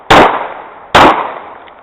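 Two loud, sharp handgun shots during a combat shooting drill, spaced under a second apart, each ringing briefly before decaying.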